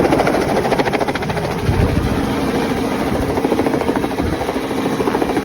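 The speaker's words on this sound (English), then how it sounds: "This is helicopter." A toy helicopter gives off a steady, close, rapid beating whir that stays at an even loudness throughout.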